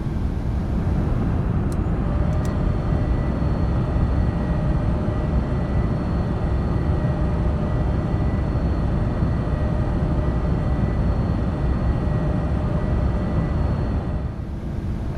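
Simulated engines of the iniBuilds TriStar airliner in Microsoft Flight Simulator 2024 give a steady, dense cockpit drone with a faint high whine, unbroken for the whole stretch before fading at the end.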